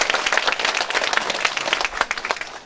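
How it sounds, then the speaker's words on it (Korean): Audience applause at a lawmaker's neighborhood policy report meeting in Geumam 2-dong, Jeonju, welcoming local guests; dense steady clapping from a crowd, fairly close and continuous throughout. "예, 큰 박수로"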